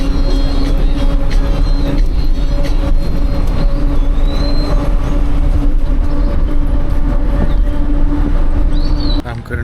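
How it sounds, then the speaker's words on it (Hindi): A train pulls into a railway station platform at Phagwara, a loud, continuous rumble of wheels and carriages with occasional high metallic squeals close by. "in fact train as well is nearly has arrived on the platform"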